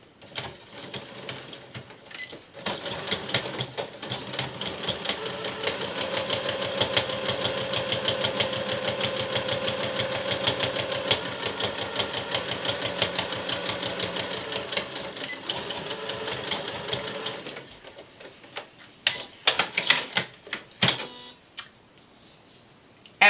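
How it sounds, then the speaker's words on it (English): A sewing machine stitches the second seam allowance of a turned-and-stitched seam finish. It runs as a steady, rapid mechanical whir for about fifteen seconds, then stops, followed by a few soft handling clicks and taps. "I flip it over and sew the second seam allowance."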